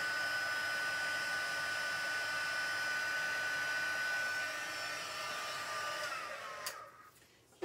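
A heat embossing tool blows hot air over embossing powder on vellum, giving a steady loud whirring hiss with a thin whine that holds for about six seconds before the motor winds down and clicks off.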